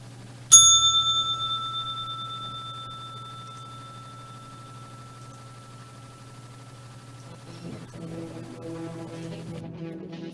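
A single bright strike of a bicycle-style bell rings out, its clear ringing tone slowly fading over several seconds, followed by faint low background noise.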